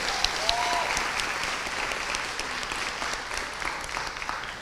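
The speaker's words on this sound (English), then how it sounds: "Please give the faculty a round of applause" Audience at a Fisk University honors convocation applauds the faculty, a steady wash of clapping from a large room that holds evenly for several seconds without talk.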